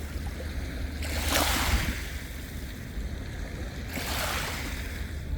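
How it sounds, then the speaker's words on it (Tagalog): Waves surge in two broad bursts, each rising and falling over a steady roar of water and wind, with no voices. "Malakas lang po ang alon."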